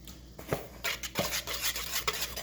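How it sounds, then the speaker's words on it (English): Whisk scraping and clinking through nut cake batter in a bowl, several brisk strokes with metallic taps, close and fairly quiet, no talking. "I'm going to whisk this together"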